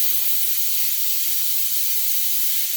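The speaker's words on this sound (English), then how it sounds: "And get this steam." Steam hisses loudly and continuously from a pot of scouse cooking on the stove, a bright even rush with no breaks and no voices.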